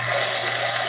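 A home oil press machine pressing flaxseed gives off a loud, constant mechanical whine and hum, close and unbroken, with no talking.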